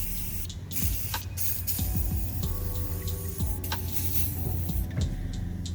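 WD-40 lubricant sprayed in short hissing bursts onto a Honda S2000 pulley bearing during a home repair, with faint workshop clatter and handling noise between the sprays and no talking.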